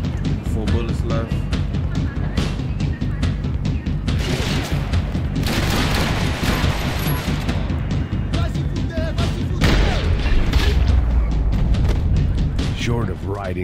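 Gunfire and heavy booms from the video game Max Payne 3, played on the hardest difficulty, as a dense, loud, continuous barrage of shots and impacts that fills the whole stretch, with a voice talking over it.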